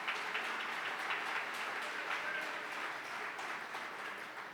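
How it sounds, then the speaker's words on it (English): Applause from a gala audience for a family being honoured, a steady dense patter of many hands clapping at moderate distance, sustained evenly throughout with no voices over it. "Can we please give a round of applause to the Kellys,"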